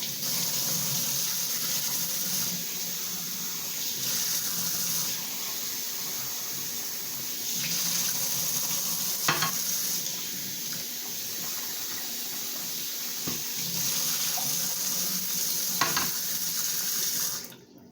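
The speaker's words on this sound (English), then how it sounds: "I'm gonna rinse off my fruits." Tap water runs into a kitchen sink to rinse raspberries, blackberries, green and regular grapes and kiwi, a steady close gushing stream with occasional splashes and clinks before it shuts off at the end.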